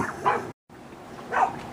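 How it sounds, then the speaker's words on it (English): Several dogs bark outside in two short bursts of yips and barks, slightly distant and fairly faint, separated by a brief gap of silence. "We got all the dogs out there barking."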